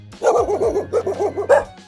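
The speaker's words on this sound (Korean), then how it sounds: "단지 사람의 귀에는 그저 멍멍대는 개소리로 들릴 뿐입니다." Dog barking in a quick, close run of loud woofs and yips, followed by a short pause and one more bark.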